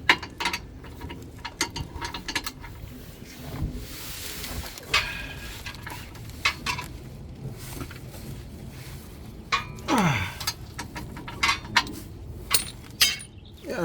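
A ratchet wrench works on a skid plate bolt under a 2022 Subaru Outback Wildernesss, giving intermittent metallic clicks and clinks, some bursts of rapid ratcheting, and handling noise over a steady low background.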